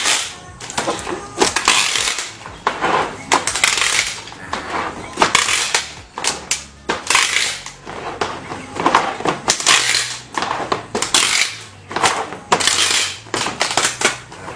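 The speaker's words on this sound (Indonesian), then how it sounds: "Kita lakban kembali." Packing tape pulled and wrapped around a bundle of plastic bottles being built into homemade furniture, with repeated loud crackling, ripping bursts and rustling handling noises in an irregular rhythm, close up and without speech.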